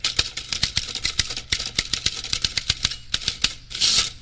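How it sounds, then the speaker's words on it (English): A red typewriter clatters with rapid, sharp keystrokes close by, in quick irregular runs with brief pauses, ending in a short rattling burst near the finish; no voices. "I knew a man who had a red typewriter."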